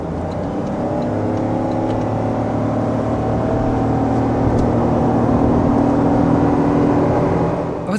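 A Toyota Sienta car accelerating smoothly in normal mode, heard from inside as a steady rising hum and whir that builds evenly without steps, fairly loud and continuous, with no voices.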